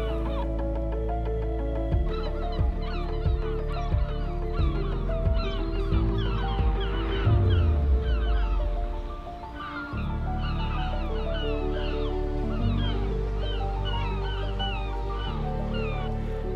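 Gulls call near puffins on an Arctic Ocean coast: a continuous, busy chorus of overlapping honking and squawking bird cries, loud and steady throughout, with a brief dip partway through.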